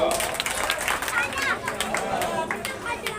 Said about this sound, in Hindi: गुड्डू भाई, शरीफ भाई जोरदार तालियां इन नौजवान साथियों का